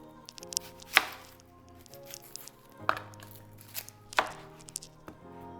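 A knife cutting through a whole onion on a cutting board: a handful of sharp, separate chops at irregular intervals, close and fairly quiet, with faint handling noise between strokes.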